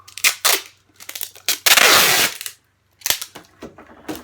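Clear packing tape is torn off its roll while sealing the bottom of a cardboard moving box, with sharp clicks and snaps, a long loud ripping strip, then a brief pause and more crackling tugs close by.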